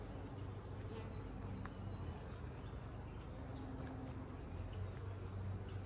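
Honey bees buzzing steadily around an open beehive during a hive inspection, a continuous soft drone with no talk over it.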